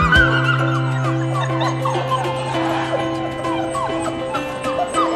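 Puppies yipping and barking in quick, uneven bursts mixed with whimpers, close and lively over a steady low hum.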